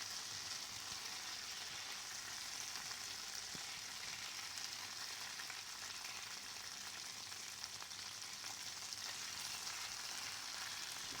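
Garlic butter shrimp frying in a pan, giving a steady, dense sizzle that runs unbroken throughout at a fairly faint, even level with no talk.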